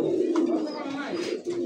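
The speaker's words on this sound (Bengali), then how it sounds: "সেই ডাকের একটা নর কবুতর সিঙ্গেল" A male pigeon coos close by, a short low throaty rolling call lasting about a second and a half, with a voice talking over it at a market stall.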